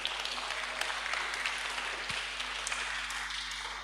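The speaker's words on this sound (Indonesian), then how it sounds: "Tepuk tangan dong." Applause fills a church hall during a Valentine's celebration worship service, a steady, moderately distant patter of many hands with a low electrical hum underneath.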